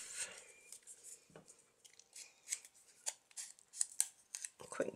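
Scissors snip the ends off a rubber stamp for a pocket-letter craft: a string of crisp, close, quiet blade clicks and cuts, irregular in rhythm, with soft handling rustles between them.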